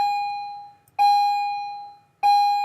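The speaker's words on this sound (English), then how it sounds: "That's our bell system here." School electronic bell system sounding a loud, clear pure tone in three long rings, each starting abruptly and fading, separated by brief silent gaps.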